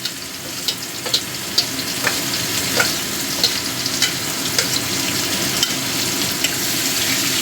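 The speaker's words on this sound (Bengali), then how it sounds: "এবার পেঁয়াজ কুচিটা একটু লাল লাল করে ভাজবো পেঁয়াজটা" Chopped onion frying in a pan with garam masala for a mutton curry with papaya and potato, a loud, close, continuous sizzle with regular spatula taps and stirring scrapes throughout and no speech.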